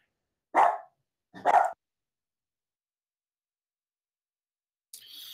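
A dog barks twice in quick succession, fairly loud and close, followed by a long silence and a faint brief sound at the end; no one speaks.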